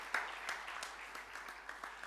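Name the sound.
applause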